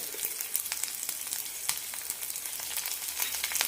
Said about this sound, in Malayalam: നന്നായി ഒന്ന് വഴറ്റിയെടുക്കാം ഒരു മിനിറ്റ് നന്നായി വഴറ്റി കൊടുക്കണം